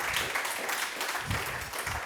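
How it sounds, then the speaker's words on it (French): Audience applause in a conference hall at a scientific day event, a steady dense wash of many hands clapping at moderate level for a couple of seconds without a break. "Je crois qu'on peut applaudir Louise pour cette intervention extrêmement brillante."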